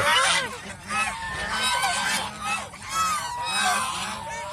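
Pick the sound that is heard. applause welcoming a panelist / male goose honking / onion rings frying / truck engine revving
male goose honking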